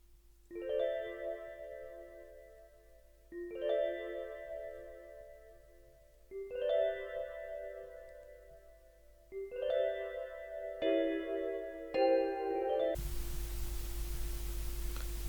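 Synth bells from the Xenology instrument ring out in a repeating four-bar phrase of layered, shimmering chimes, each swell rising and fading, played alone before a sudden burst of static.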